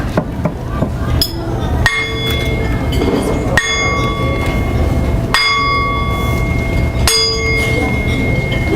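A church bell tolls at a Christmas stage show, five loud metallic strikes about every 1.7 seconds, each ringing on with long sustained tones over a low background murmur.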